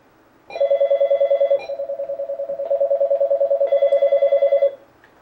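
Telephone tones on a French-language call-in radio show, a steady two-part electronic ringing tone sounding alone for about four seconds, with brief pauses between the bursts.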